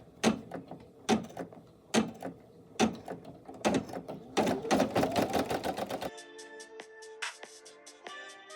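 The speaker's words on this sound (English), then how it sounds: "now it's going to stitch the tack down stitch and the satin border" An embroidery machine stitches the tack-down line and a satin border on appliqué fabric, first with loud, evenly spaced mechanical thumps, then with a faster run of stitching and a higher whirring hum toward the end.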